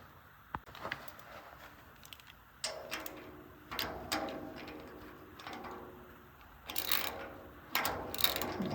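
Ratchet wrench with a socket tightening a bolt while a metal door is installed, clicking in several short bursts with pauses between, close and moderately loud, no talking.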